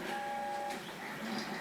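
A 3D printer running steadily at low level, with a thin whirring hum and faint motor whine throughout, brief shifts in pitch as the print head moves.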